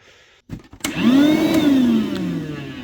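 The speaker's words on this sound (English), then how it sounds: "so I got the vacuum fixed" A DeWalt 20V DCV580H cordless vacuum cleaner starts up after a repair, motor whine rising and then holding as a steady, loud, close drone, with a few clicks and knocks before it spins up.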